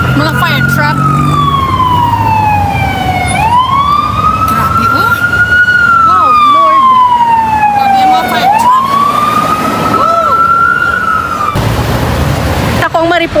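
A fire truck's siren wails at a fire in San Nicolas, La Paz, Iloilo City, sweeping up and down in long loud cycles over street noise and crowd murmur, with voices talking nearby.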